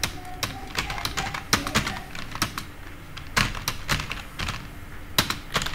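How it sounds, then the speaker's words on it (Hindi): Fast, continuous clatter of keys on a computer keyboard, close and fairly loud, with irregular bursts of sharp clicks and no voices. "इस तरीके से मैंने कुछ टाइप कर लिया"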